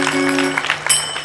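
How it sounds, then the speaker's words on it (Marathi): A crowd at a large outdoor gathering in Nandgaon Peth, with thousands of children present, breaks into steady applause that holds at moderate loudness throughout, with a few sharper bursts of clapping near the end. "टाळ्या"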